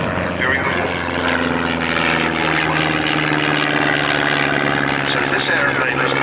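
Miles Whitney Straight propeller aeroplane at Abingdon, its engine drone loud and steady throughout with a pulsing propeller hum, while someone talks over it.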